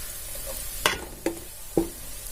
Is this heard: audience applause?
no